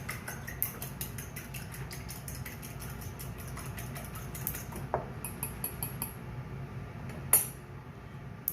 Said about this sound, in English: 2 eggs. Go ahead and lightly beat them.